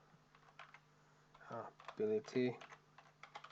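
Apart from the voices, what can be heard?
typing on a computer keyboard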